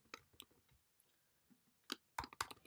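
Sparse, faint clicks of typing on a computer keyboard come in irregular bursts, with a cluster of sharper keystrokes near the end and no talking.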